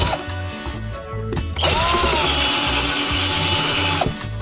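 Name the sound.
drilling a hole through a conch shell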